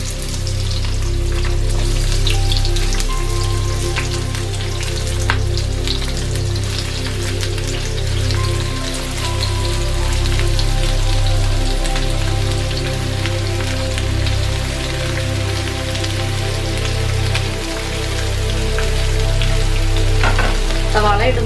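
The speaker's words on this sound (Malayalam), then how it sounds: "ഇപ്പൊ എണ്ണ ചൂടായിട്ടുണ്ടെങ്കിൽ സവാള ഇടുകയാണ്." Sliced onions frying in hot oil on a full flame, a steady dense crackle and sizzle with scattered pops running throughout, loud and close with no talk over it.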